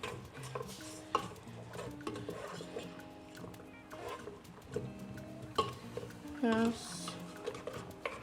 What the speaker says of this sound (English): I'm just going to give it a quick stir